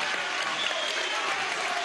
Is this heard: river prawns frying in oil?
no